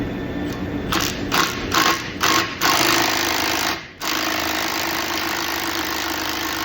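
A puller working on the power steering pump of a 2008 Buick LaCrosse: a loud, continuous mechanical grinding whir with several short rhythmic bursts and one brief drop before the steady drone resumes, close to the microphone.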